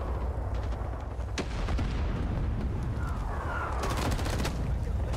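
Grenade blast in the Rising Storm 2: Vietnam shooter, landing amid continuous battlefield gunfire and distant artillery rumble, with a sharp burst standing out partway through the dense, loud combat din.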